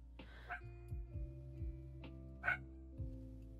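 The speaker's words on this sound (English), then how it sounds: "Oh my goodness, what is Sammy barking about?" A pet dog barks indoors at a room of the house with the blinds drawn, giving a string of short, sharp barks and yips spread through the moment at moderate distance.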